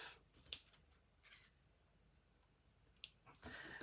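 Scissors snip off the end of a tied ribbon bow during a craft project: a few sharp, close metallic clicks and cuts, spaced apart over quiet handling noise, with no one talking.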